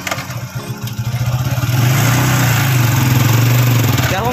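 A motorbike engine runs close by, a steady mid-pitched drone that builds in the first seconds and then holds a strong, even hum with a slight rising rev near the end.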